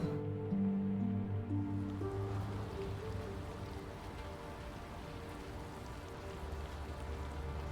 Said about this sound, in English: I love this rain sound.